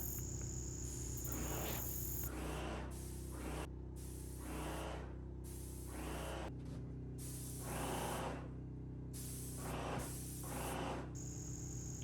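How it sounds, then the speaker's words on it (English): A paint sprayer lays smooth, light coats on a rustic spiral staircase in a steady hiss, broken into repeated short bursts of a second or two with brief pauses between strokes, close and fairly loud over a constant background hum. "using nice smooth strokes, I'm trying to evenly and lightly spray each coat"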